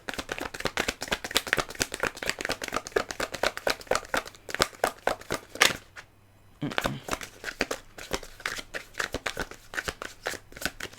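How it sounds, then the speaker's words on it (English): Tarot cards shuffled by hand in rapid crisp riffling bursts, close and loud, with a brief pause midway before the shuffling resumes, ending on a chunkier shuffle. "bit of a chunky shuffle there at the end"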